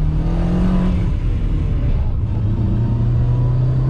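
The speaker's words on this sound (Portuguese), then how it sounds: "O barulho do motor, pra quem não curte muito o barulho do motor, ele passa um pouco" A Volkswagen Gol 1.6 with an AP engine revving loudly up close, its hum rising and falling with a brief dip mid-way, steady and without voices.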